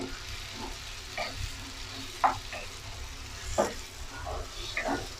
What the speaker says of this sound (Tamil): தக்காளி நல்லா குழைய வேகட்டும்